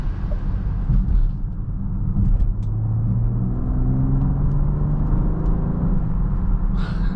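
A 2024 BMW X5 50e plug-in hybrid cruising on a highway in pure electric mode, heard from inside the cabin as a steady, loud low rumble of road and tyre noise with a faint whir, with no talking.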